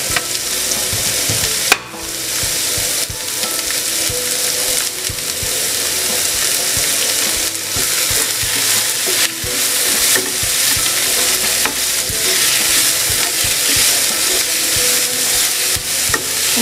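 Chopped onion and green chilli fry in hot oil in a pan, a loud, steady sizzle with frequent stirring scrapes and clatters running throughout, no voices.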